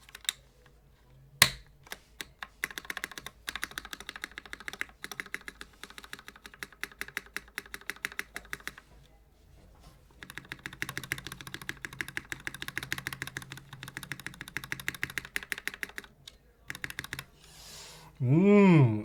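Keystrokes on a custom Tiamo mechanical keyboard fitted with lubed milky Gateron Yellow switches, a steady run of close, crisp clacks in bursts with brief pauses, ending in a short louder rising sweep of another sound.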